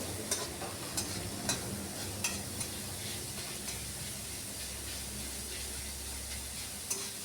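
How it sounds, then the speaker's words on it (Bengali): Chopped onion and ginger fry quietly in hot oil, giving a steady soft sizzle with light scraping taps as a spoon stirs the pan at intervals. "বারবার নাড়িয়ে পেঁয়াজ আর আদাটাকে আমি খুব ভালো করে ভেজে নিচ্ছি"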